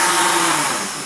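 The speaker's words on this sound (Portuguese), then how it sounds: "aqui que está no liquidificador o leite, a manteiga, os ovos e o açúcar, vamos estar batendo" A blender whirs steadily and loudly, a dense motor drone mixing thick cake batter of milk, butter, eggs and sugar, with no pauses or voices.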